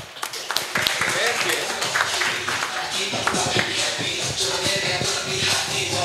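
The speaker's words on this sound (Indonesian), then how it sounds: "boleh tepuk tangan untuk Abel" Audience clapping for Abel at a live football talk show taping, a dense burst of hand claps mixed with crowd noise, loud and close throughout, with voices talking over it.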